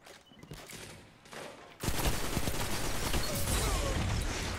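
Automatic rifle fire in Destiny 2: light scattered shots at first, then from about two seconds a loud, sustained rapid burst of gunfire that continues to the end, with game mechanism noises mixed in.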